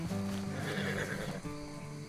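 A horse in the video game Red Dead Redemption 2 gives a clear, close whinny, with the clip-clop of its hooves mixed in over a faint background hum.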